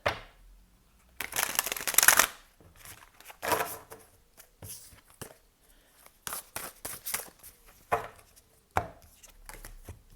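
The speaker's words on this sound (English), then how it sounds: "Let me just check that these are properly shuffled" A deck of tarot cards is shuffled by hand in quick bursts of riffling and slapping, with short pauses between rounds, close and fairly quiet.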